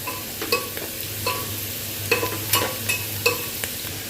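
Sliced onions frying in oil with a pinch of sugar, giving a steady soft sizzle under repeated sharp clicks of a spatula stirring against the pan, close and alone.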